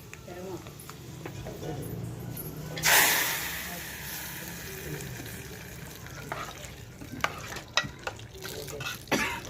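A hot tempering is poured into mango dal and stirred, giving a sharp burst of sizzle partway through, then steady stirring scrapes and spoon knocks against the pot, with talking throughout.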